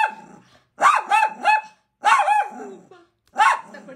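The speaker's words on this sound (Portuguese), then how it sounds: "Ele tá latindo pra ele mesmo, gente, na TV que aparece ali na frente." A dog barks loudly and close in sharp bursts at its own image on a TV screen, in several clusters of two or three barks separated by brief pauses.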